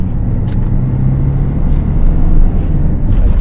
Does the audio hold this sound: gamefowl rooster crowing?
no